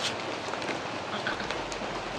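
Rain falling steadily, giving a continuous moderate wash of patter with occasional louder drops and a low rumble underneath.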